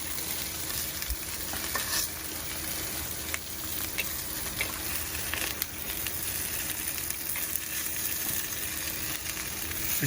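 Potatoes fry in a non-stick Ridgemonkey Connect Combi pan with a steady, close sizzle that carries a light crackle, continuous for about ten seconds with no talk over it.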